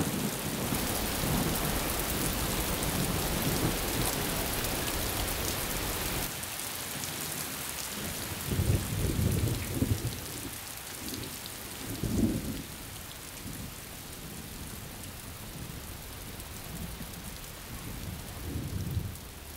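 Heavy rain falls steadily in a dense hiss, and low thunder rumbles swell and fade several times through the downpour, with no voices.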